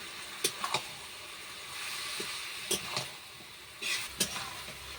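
Mustard paste is stirred into vegetables sizzling in a pan: a steady close frying hiss broken by several sharp scraping spoon strokes in irregular clusters, with no talking.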